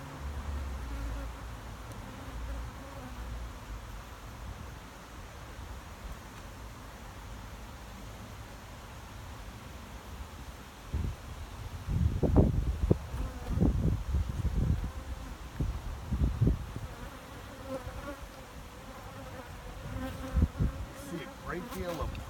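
Honey bees buzz steadily around a hive during maintenance, a continuous close drone that swells with louder passing buzzes near the middle.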